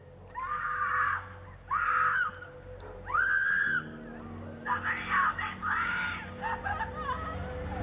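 Several shrill, drawn-out screams at night in Los Angeles come in bursts, one after another, then overlap into a wavering cluster of cries against a low background hum.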